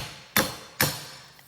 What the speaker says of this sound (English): I smash my 3 garlic cloves